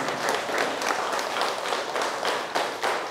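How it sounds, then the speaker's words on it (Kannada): Audience at a spiritual meditation gathering applauding loudly, dense steady clapping from many hands filling the room throughout, close and sustained. "ಜೋರಾಗಿ ಚಪ್ಪಾಳೆ ಹೊಡೆಯೋಣ"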